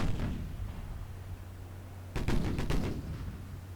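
Naval guns fire in the warship game Ultimate Admiral Dreadnoughts: a low booming background gives way to a sudden burst of several sharp, rapid reports, with rumble lingering after them.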